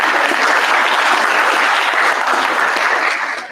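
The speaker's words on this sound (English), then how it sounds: "a round of applause" An audience at a junior honor society induction ceremony applauds steadily for parents, teachers and staff, a dense, sustained wash of clapping that fades slightly at the end.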